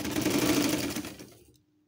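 A sewing machine stitching piping onto a patchwork fabric basket, one fast continuous mechanical whir that runs steadily, then winds down and stops near the end.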